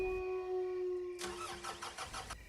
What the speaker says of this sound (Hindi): साहब गाड़ी चालू नहीं हो रही है।